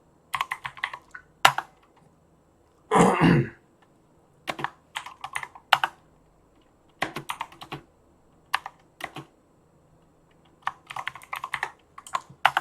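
Someone types code on a computer keyboard, with irregular bursts of quick key clicks and louder single strokes separated by short pauses, close and fairly quiet.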